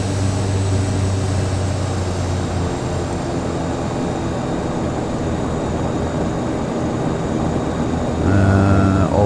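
Steady, loud drone of Saab 340 turboprop engines in a flight simulator, a continuous low propeller hum during a climb with throttles slightly reduced, holding even throughout and swelling briefly near the end.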